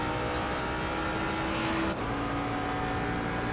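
A Ford Mustang GT3 race car engine in a racing video game drones steadily and loud, holding a sustained tone with a brief dip as it shifts, without any voices.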